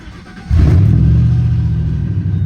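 Ford SVT Lightning truck engine cranking and catching, then settling into a loud, rumbling idle that holds steady close by.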